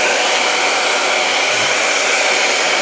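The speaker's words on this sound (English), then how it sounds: "So my suggestion is to hold your hairdryer over" A hair dryer blows with a steady, loud, close rushing whoosh of air, unbroken throughout.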